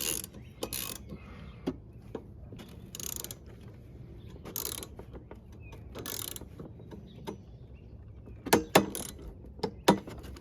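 A torque wrench tightens the blade bolt on a Husqvarna HU700H mower, a series of close, crisp ratcheting clicks spaced by pauses, bunching into quick bursts near the end.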